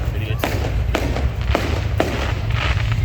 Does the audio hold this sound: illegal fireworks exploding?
yes